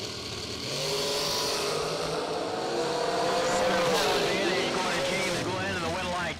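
Two drag racing cars launch side by side in a heads-up race, loud engines roaring and revving steadily at close range over a racetrack crowd background.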